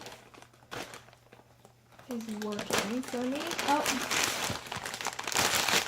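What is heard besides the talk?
ripping open a book parcel by hand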